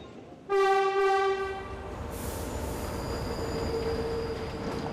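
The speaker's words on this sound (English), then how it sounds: "the train only stops for 2 minutes." A train pulls into a rural station, opening with a loud, sustained horn blast followed by squealing wheels and a steady rumble as the cars roll in close by.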